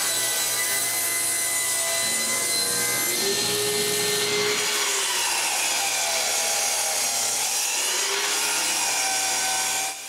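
Wooden plank sawn to length, a continuous rasping stroke of the saw through the wood, close and steady for about ten seconds before stopping abruptly at the end, with no voices.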